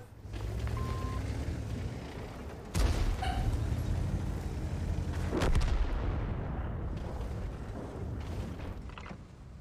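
A T-54 lightweight tank cannon fires in a video game, two loud booming shots a few seconds apart over a steady rumbling engine background, with no talk.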